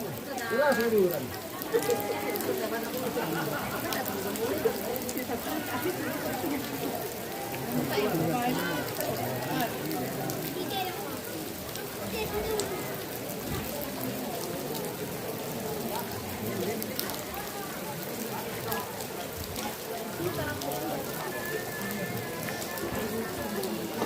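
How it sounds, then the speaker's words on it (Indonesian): Steady rain falls on a surface outdoors, a dense continuous patter and hiss lasting throughout, with people talking over it. "Hujan melanda."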